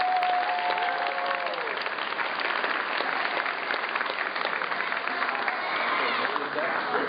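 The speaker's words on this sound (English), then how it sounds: "Give him a round of applause." A crowd at a New Jersey Department of Corrections class ceremony claps steadily, dense and continuous applause that fills the room, with a voice briefly audible at the start.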